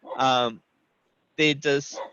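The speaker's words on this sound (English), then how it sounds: "Oh, sorry, that's my dog." A pet dog barks indoors during an online meeting, a few short loud barks in quick bursts close by, with a person speaking around them.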